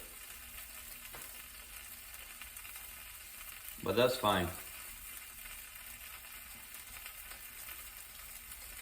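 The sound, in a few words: quesadilla cheese sizzling in frying pan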